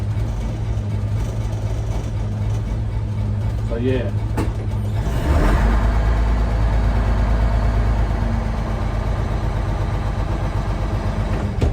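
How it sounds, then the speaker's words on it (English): Bus engine idling steadily with its air tanks filled, a low continuous rumble throughout, with a brief clatter and hiss near the middle as the rear door opens and a short spoken remark. "now you can hear it idling"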